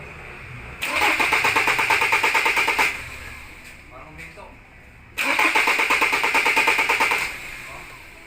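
A Ford Ranger 2.2 with a hard-starting fault cranks in two long bursts of rapid, even starter churning, each lasting about two seconds, without catching; a brief quieter gap separates them.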